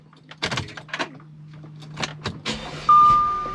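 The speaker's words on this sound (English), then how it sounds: "start it up, let it run in park for 20 seconds" Inside an Audi A5 being serviced, doors and keys rattle before the engine starts, then it settles into a steady idle in park, with a low hum that fills the cabin closely.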